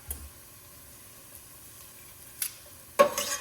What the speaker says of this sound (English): We're just gonna let it cook until the garlic becomes fragrant